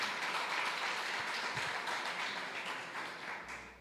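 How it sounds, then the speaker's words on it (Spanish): A church congregation applauding, broad and steady clapping from many hands that fills the room evenly and fades slightly near the end. "dele bien fuerte ese aplauso"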